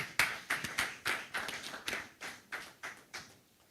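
An audience at a mobile app launch event claps in about ten short, distinct bursts with small gaps between them, sounding moderately close and without voices.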